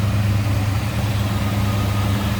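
A 1968 Ford Torino GT fastback's 390 V8 idles smoothly and loudly up close, a steady low rumble with no revving.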